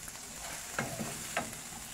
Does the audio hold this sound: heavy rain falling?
no